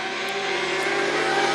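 Modlites speedway race car at Gympie Speedway roaring down the back straight, a loud, steady engine drone holding close throughout with a slight rise in revs.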